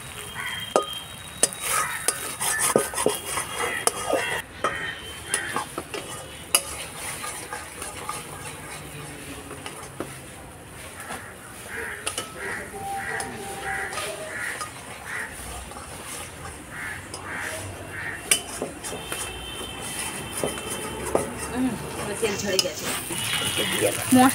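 Spice paste for a cauliflower and nut curry being sautéed in oil in a pan, with a soft continuous sizzle and frequent clinks and scrapes of a spoon stirring against the pan.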